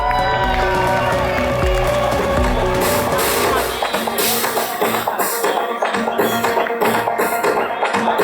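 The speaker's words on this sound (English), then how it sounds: "Please let's give them a round of applause." Crowd applause and cheering at the Motherland Festival, loud and dense, rising over music with a sustained tonal backing in the first seconds, then breaking into busy claps and shouts while a voice talks over it.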